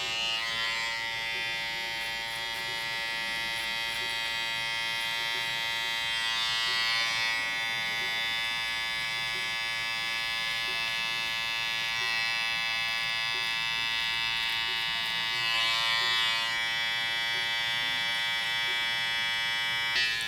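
Electric hair clippers buzz continuously as a barber cuts a client's hairline, a steady close-up drone lasting the whole time with slight swells in intensity and no talk.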